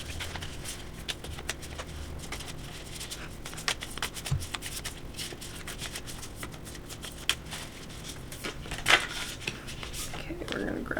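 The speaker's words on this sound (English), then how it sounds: "So we're gonna shuffle these a bit." Tarot cards riffle and slide against each other in repeated bursts of shuffling, close by, with light handling noises throughout.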